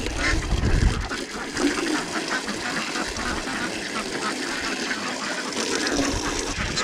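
Ducks gathered around their water trough quack in a busy, overlapping stream. The noisy farmyard mix includes a low engine hum and an indistinct voice nearby.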